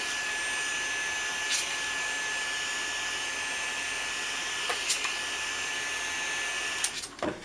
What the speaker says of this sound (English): Hit it with the heat gun a little bit so that we dry that watercolor a little bit.